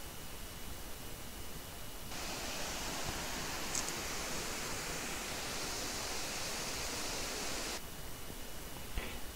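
Florence Falls in Litchfield National Park, Australia, gives a steady, hissing broadband rush of falling water that swells noticeably louder for several seconds in the middle, then drops back to a softer, distant roar.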